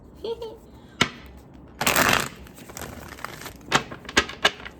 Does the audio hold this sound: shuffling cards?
yes